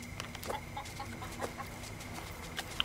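Chickens cluck in a coop in the video game Force of Nature II, a few short clucks scattered over a steady low background hum with no talk.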